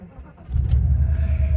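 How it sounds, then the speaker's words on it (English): A 1989 Mercedes 560SEL with a vacuum fault cranks briefly, then its engine catches and settles into a loud, steady, close-up idle rumble. "let me start the car up"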